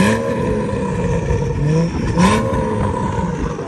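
A BMW F30 with a catless downpipe, resonator delete and stock mufflers revs loudly and steadily nearby, its engine note rising and falling through several throttle blips with no talk.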